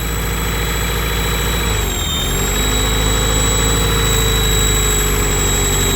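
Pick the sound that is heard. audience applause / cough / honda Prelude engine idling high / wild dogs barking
honda Prelude engine idling high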